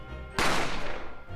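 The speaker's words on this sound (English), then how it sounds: "I didn't have time to think about where the sound of the gunshot came from" A single loud gunshot from the Ace Attorney video game bursts in sharply and then rings out in a broad decaying wash for about a second, with no talk.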